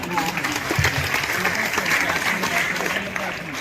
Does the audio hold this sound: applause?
yes